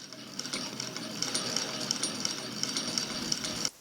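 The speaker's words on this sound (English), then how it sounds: "Bring the thread down from the thread spool above and just turn the crank." Hand crank turning on an 1869 Home Shuttle sewing machine while winding a bobbin, a soft steady whir with faint regular metallic ticks that stops abruptly near the end.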